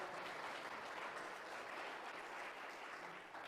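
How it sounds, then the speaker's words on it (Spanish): A church congregation applauds during a Spanish-language service, a steady wash of many hands clapping at a faint, distant level with no pauses. "Denle un aplauso a nuestro Dios, hermano."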